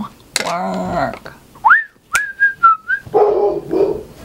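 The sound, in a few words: dog barking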